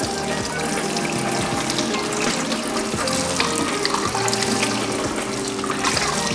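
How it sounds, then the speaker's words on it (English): Cold water pours steadily from a kitchen tap into a sink while a plate is rinsed under it, a loud, close, continuous splashing rush with no talk. "It's quite slow, and that is, yeah, that's dead cold water."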